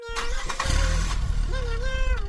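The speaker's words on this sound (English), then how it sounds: "They both start playing and hear the sound of the neighbor's car." A car engine rumbles steadily and close, with a rising whine partway through as it revs, then settles back to a running hum.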